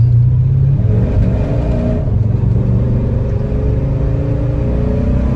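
1982 Porsche 928 engine revving under acceleration, heard as a loud, steady rumbling drone whose harmonics rise in pitch as the revs climb, with no talk over it.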